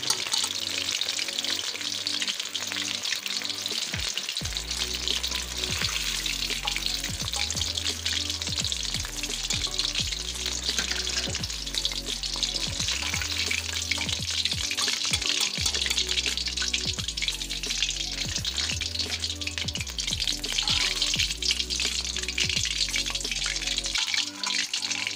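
Chicken pakoras deep-frying in hot oil give a steady, dense sizzle that runs the whole way through at an even, close level, with faint rhythmic background tones underneath and no talking.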